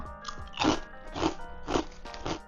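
Four crisp, loud crunches of biting into a baked, not fried, potato snack, evenly spaced about half a second apart, close up with no talking.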